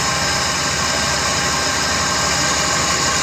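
A mini atta chakki flour mill set on a ground foundation runs with a loud, steady mechanical drone and a constant low rumble, even and unbroken throughout.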